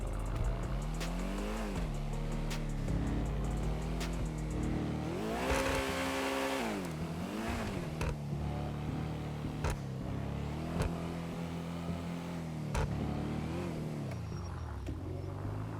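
An SUV engine revs up strongly and falls back, rising to a loud roar midway before settling into a steady rumble, heard from inside the vehicle during a test drive.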